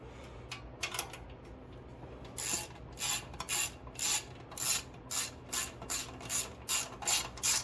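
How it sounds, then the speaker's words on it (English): Ratchet wrench tightening nuts on a Powerhorse 11000ES generator, heard as a run of crisp, regular clicking bursts, sparse at first and then steady and close, with no talking. "we'll go ahead and tighten them down"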